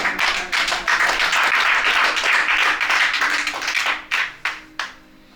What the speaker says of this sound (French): Si je te bénis, donne une acclamation à Dieu.